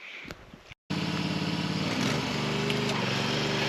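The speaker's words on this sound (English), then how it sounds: "as soon as I turned the blades off, you heard a horrible screeching sound" Lawn mower running loud and close with dense engine drone and harsh high screeching overtones as the blades are switched off, after a brief dropout near the start; steady roar continues to the end.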